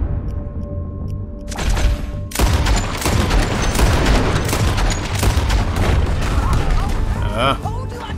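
Gunfire from the Western video game Red Dead Redemption 2 erupts in a sudden loud, sustained volley of rapid overlapping shots and booms after a quieter opening, with voices talking beneath the chaos.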